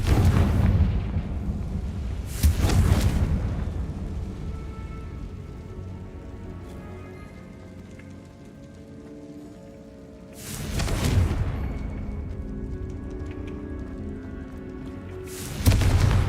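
Spell blasts in the Hogwarts Legacy video game, three heavy booming bursts, the first two close together near the start and a third around ten seconds, plus another at the end, each rumbling off over a low continuous game ambience.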